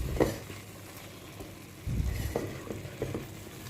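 Coconut laddu mixture being stirred in a pan over a low flame, a soft scraping and shuffling of the thick mass with a faint sizzle, in a few slow strokes, close and fairly quiet, with no talk.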